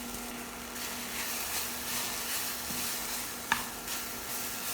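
Black sesame seeds roast over low heat in a pan, giving a soft, steady sizzle and faint scraping as they are stirred, with one brief louder click partway through.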